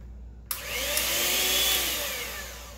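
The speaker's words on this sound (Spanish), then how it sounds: "La crema esa, cuando se vaya a moler, tiene que estar frío. Vamos a molerla aquí." Electric blender starts abruptly and runs steadily, grinding cold cream for a mango mousse, a loud continuous whirring motor with no talk.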